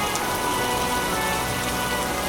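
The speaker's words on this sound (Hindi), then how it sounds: "चारों तरफ अंधेरा और बारिश" Rain falls in the dark as a story sound effect, a dense, loud, steady hiss of drops on a surface that runs without a break and with no voices.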